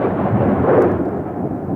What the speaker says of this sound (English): The night of the storm.